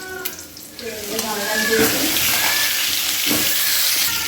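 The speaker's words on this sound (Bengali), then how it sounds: "পুরো ছাঁকা তেলে পোচ ভেজেছি" An egg poach fries in a deep pool of hot oil, and the bubbling sizzle swells from moderate to a loud, steady crackle up close, with light utensil scrapes and no talk.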